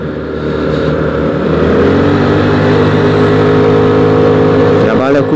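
A Dafra Laser scooter, fitted with 10 g rollers and a yellow torque spring, accelerates loud and close up a slight uphill, its engine note rising steadily in a continuous revving drone with a brief change near the end.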